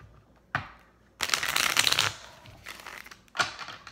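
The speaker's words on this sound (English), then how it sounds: "One more shuffle." Tarot cards riffle and slap through a shuffle, with a short snap, a longer crisp burst of shuffling, then another brief flurry, quiet and close with no talk.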